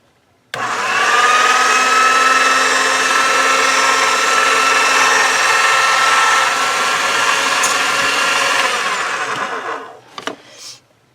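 A polymer clay cane is fed through a motorized pasta machine, whose steady, loud mechanical whine runs for about ten seconds before it winds down and stops with a couple of clicks.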